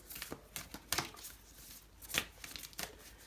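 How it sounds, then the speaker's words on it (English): Heart-shaped tarot cards are shuffled slowly, giving a handful of sharp riffling and slapping bursts spaced irregularly across the clip, close and fairly quiet. "Heart-shaped cards, so they're a little bit harder to shuffle, but just bear with me because I'm also a pretty slow shuffler."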